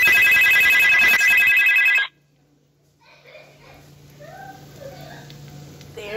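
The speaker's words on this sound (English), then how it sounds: "excuse that phone call that was my mama that just called" Phone ringtone trilling loudly with an incoming call in a kitchen where burgers are cooking, a repeated electronic ring that cuts off abruptly after two seconds, followed by quiet room sound and faint voices.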